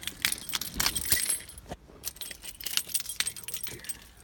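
Metal car keys for a 2011 Honda Civic jangle and clink in several quick bursts, close by, with a brief quiet gap midway.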